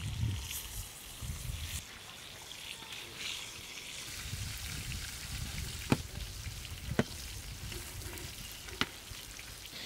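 Oil sizzling steadily in a kadai over a village cooking fire while preparing a silver carp curry, a continuous crackling hiss with a few sharp pops near the end.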